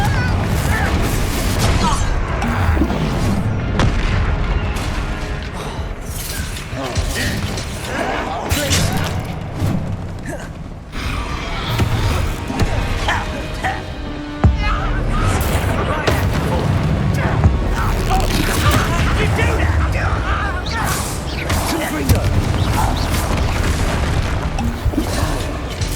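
A Confringo blasting spell detonates in Hogwarts Legacy amid combat, with repeated booming impacts and bursts across a loud, busy battle scene, one sharp blast standing out midway.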